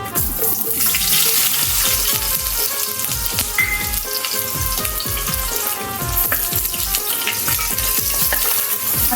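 Chicken and onions fry loudly in oil, a dense, continuous hiss and sizzle with no pauses.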